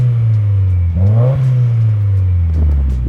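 A 2015-21 Subaru WRX VA with an MXP COMP RS catback exhaust revs up loud and near, the engine note climbing, peaking against the soft limiter and settling back into a steady mild idle drone.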